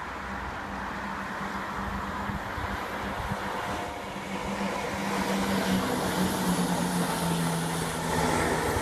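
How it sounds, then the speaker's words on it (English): A train passes on a railway line near Arbroath, a steady broad rumble that swells slightly as it goes by, heard from trackside outdoors with no talking. "Here comes the train."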